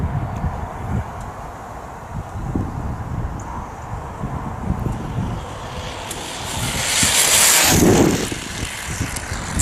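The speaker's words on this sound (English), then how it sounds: "The wind's blowing this way, Stig." Wind blowing outdoors where a 1/8 scale RC stock car is being run, a gusty rushing buffet on the microphone with low thumps, swelling louder near the end.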